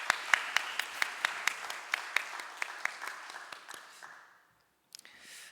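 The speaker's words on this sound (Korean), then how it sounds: "다시 한번 우리 찬양대와 또 우리 장로님 위해서 감사와 격려 박수 보내도록 하겠습니다." Church congregation clapping for the choir and an elder at a Sunday service, a steady run of sharp, evenly spaced claps close by that tapers off and stops, followed by a few faint stray claps.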